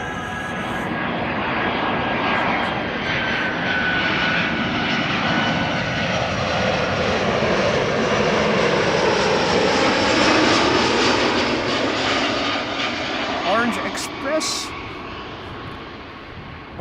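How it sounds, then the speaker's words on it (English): An Air Arabia Morocco airliner arriving at Schiphol from Morocco, its engines giving a steady, loud roar that swells and fades slowly over a long pass with no talk. "Air Arabia Morocco, arriving from Morocco,"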